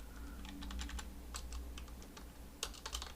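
Rapid keystrokes on a computer keyboard, a steady run of light clicks with a few louder key hits, close by over a low background hum.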